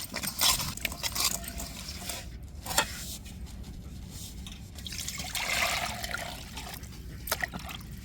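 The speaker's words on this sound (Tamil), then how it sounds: "உரசிக்கிட்டு நல்லா கழுவி எடுத்துடணும் மீனை." Rock fish rinsed under water after a salt scrub, with soft trickling and splashing close by, rising and falling as the fish is handled, no voices.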